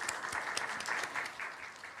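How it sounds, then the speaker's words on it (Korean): A church youth congregation claps to welcome a newly registered member during a worship service, a short burst of brisk, fairly even applause at moderate distance, alone without speech. "우리 함께 박수로 맞이하겠습니다."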